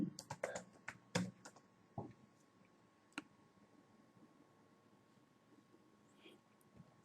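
Typing on a computer keyboard for a Google search: a quick cluster of close, crisp key clicks at the start, then a few isolated taps fading into quiet room tone.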